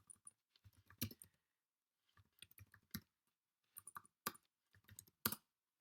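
Typing on a computer keyboard to enter a git status command: several short bursts of quick, faint key clicks separated by brief pauses, in a quiet room.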